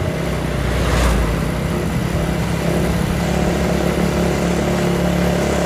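A loud motorcycle with a noisy exhaust on a night road in Indonesia, heading toward Cikijing market. Its engine drone is close and steady for the whole stretch, with a brief surge near the start.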